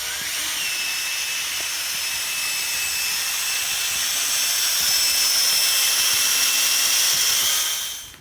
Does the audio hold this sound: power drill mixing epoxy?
yes